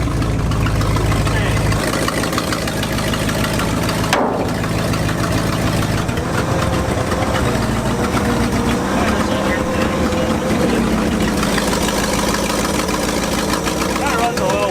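An abandoned truck, left sitting 14 years, runs with a steady, slightly uneven engine drone that carries through the whole stretch, while someone talks over it nearby.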